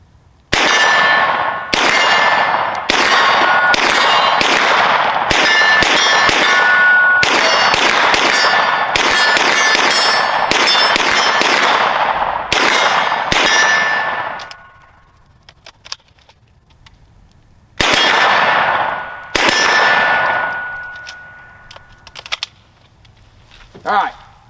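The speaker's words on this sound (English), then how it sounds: "Now let's shoot some steel." Rapid gunfire rings out against steel targets at an outdoor range, each crack followed by a sharp metallic clang, dozens of loud shots in fast strings, then a pause and a few more bursts near the end.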